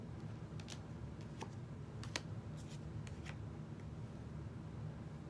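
Soft riffling and snapping of tarot cards being shuffled, a few sharp flicks over a steady low hum, fairly close and quiet.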